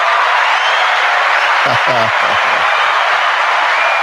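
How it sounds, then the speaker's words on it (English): A played applause sound effect at a Father's Day celebration gives a steady, even wash of clapping throughout, while a voice speaks briefly in the middle. "Let me put my applause up"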